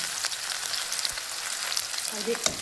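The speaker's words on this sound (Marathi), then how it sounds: "आता मस्त तेल गरम झालेलं आहे बाबा आता मी टाकून घेते कांदा हिरवी मिरची" Onion, green chili and garlic sizzling in hot oil in a kadhai, a dense, continuous frying hiss with faint crackles and a brief clink of a utensil near the end.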